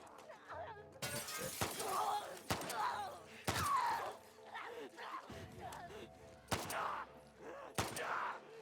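Several sharp pistol shots ring out in The Last of Us Part II, loud bursts spaced irregularly amid game noise and combat sounds, with a voice talking over parts of it.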